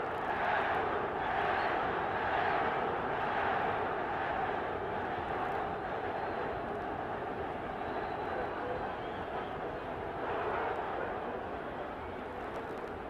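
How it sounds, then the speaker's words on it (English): A large boxing crowd at a bout between Estebán De Jesús and Roberto Durán keeps up a steady, distant roar of whoops and cheers, with a commentator's voice carried along under the crowd noise. "I guess you can hear the crowd whooping it up."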